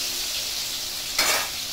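Koi fish frying in mustard oil in a home kitchen: a steady close sizzle, with a sudden brighter, louder burst of spitting near the end as something is stirred or added.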